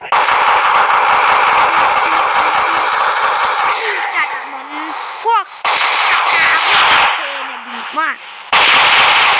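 Rapid gunfire from a firearm in Minecraft, heard as a loud, dense burst of shots at the start, then broken by short electronic chirps and game effects before the shooting returns at the end.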